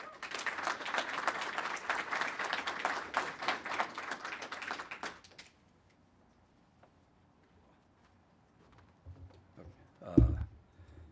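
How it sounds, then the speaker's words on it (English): Audience applause for a campus lecturer, a dense burst of clapping lasting about five seconds, then near silence with a few soft movements and a brief thump near the end. "Let's give him a round of applause."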